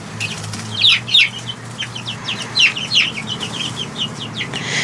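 Three-week-old chicks peep and cluck in short bursts inside their shavings-lined coop, a lively cluster of close, high chirps repeating over a low steady hum, with no voices.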